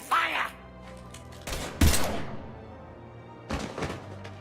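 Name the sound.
gunfire in video game Mass Effect 3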